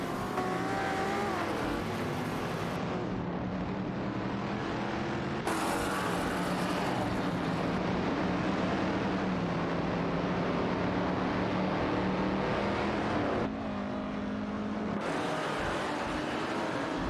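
Race cars in a racing video game, a Shelby and a Ferrari 250 GTO battling for third, engines droning loudly and continuously with abrupt cuts between views and pitch shifts as revs change.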